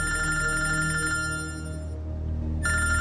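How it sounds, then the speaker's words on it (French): A mobile phone rings inside a car with a loud, bright electronic ringtone of repeated tonal bursts that briefly drops away and then resumes, with no talking. "Alors quand son téléphone sonne..."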